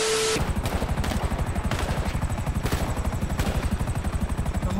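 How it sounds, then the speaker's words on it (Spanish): A helicopter warms up in the GTA V video game, its rotor chopping in a loud, rapid, steady thud that continues without a break. "Mientras calienta el helicóptero"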